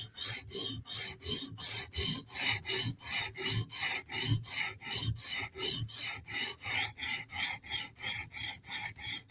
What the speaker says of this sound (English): I'm just going to do some strokes at the heel to make sure we're all the way sharpened.